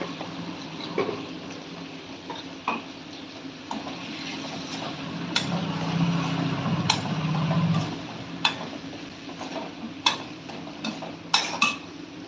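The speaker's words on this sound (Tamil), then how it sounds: "அப்படியே சிம்மில் வதங்கட்டும்" Gooseberry pickle mixture with Kashmiri chilli powder sautéing on low heat in a home kitchen, with soft steady sizzling broken by occasional clinks and scrapes of a spoon against the pan.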